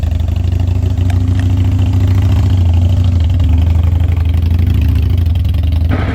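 A Harley-Davidson Sportster motorcycle engine runs steadily at close range, a loud low rumbling idle with a pulsing throb throughout, no voices.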